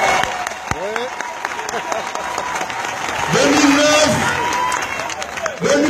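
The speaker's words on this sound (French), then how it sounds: "il faut l'applaudir" Audience applauding during a political declaration, steady clapping with scattered shouts and voices rising over it, growing louder midway.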